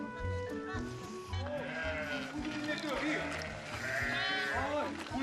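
A flock of sheep and goats in Cappadocia, Türkiye, near rock walls pocked with cave holes, bleating in overlapping calls from several animals at middling distance, while a narrator speaks over them throughout.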